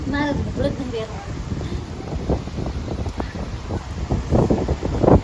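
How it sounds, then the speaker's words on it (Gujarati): Strong wind buffets the microphone in gusty roars while someone talks over it, with rain and rustling in the background. "બહુ પવન છે"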